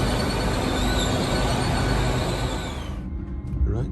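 A diesel passenger train runs on an unelectrified line near Harrogate. Its steady, loud engine and wheel rumble fills the cabin, then eases into quieter squeaks and clicks near the end.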